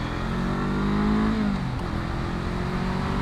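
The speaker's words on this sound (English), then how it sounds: "I'm surprised at the power that this 500cc engine delivers" A 2019 Honda CB500F motorcycle's 500cc engine pulls hard under throttle, a loud, steady rising drone close by that climbs in pitch, dips briefly as it shifts, then carries on strongly.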